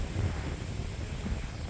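Wind blows across a campground at Sleepy Hollow State Park in Michigan, a steady low rumbling rush buffeting the microphone throughout, loud and close, with no talk.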